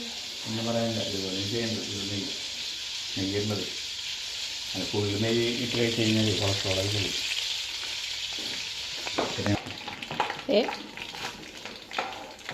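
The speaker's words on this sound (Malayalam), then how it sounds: "സവോള നമ്മളിത് വറക്കാൻ വേണ്ടി ഇട്ടു" Steady sizzling of onions frying in hot oil and ghee for beef biryani, with a person talking over it and occasional stirring clatter toward the end.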